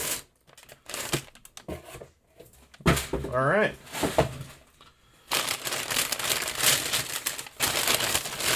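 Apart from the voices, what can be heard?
packing paper being crumpled while unboxing a Spyderco package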